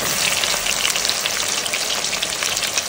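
Coarsely chopped onion hits hot mustard oil already seasoned with cumin, dried chili and whole garam masala, a loud, dense, crackling sizzle that stays steady and close throughout.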